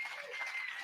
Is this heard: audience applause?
yes